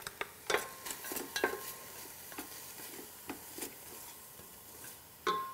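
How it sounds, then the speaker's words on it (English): A cauliflower pasta mixture seasoned with salt, black pepper, Italian seasoning and crushed red pepper is stirred, giving soft scraping clinks of a utensil against the dish in an irregular rhythm, quiet and close, with no talking. "Give that a good mix."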